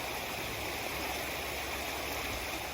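Cold mountain stream water rushes at Desoto Falls in the Chattahoochee-Oconee area, a loud, close, continuous roar of flowing water with no talking over it.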